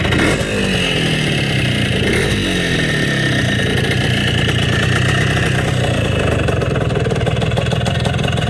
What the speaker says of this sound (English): Billy, this motor sounds strong. Super strong, super clean. This is a great motorcycle.